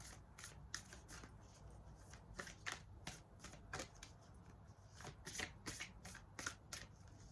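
Tarot cards are shuffled close up in a quiet room, a rapid series of soft papery riffles and flicks repeating steadily for several seconds.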